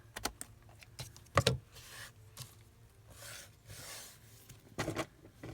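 Scissors cutting fabric in a home sewing session, heard as a scattered series of close, crisp snips and rustles, with quiet pauses between the cuts.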